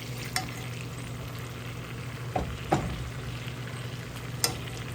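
Steaks sear in a cast iron skillet with a steady, close frying sizzle. A few sharp clanks and scrapes of utensils against the pan break through the sizzle.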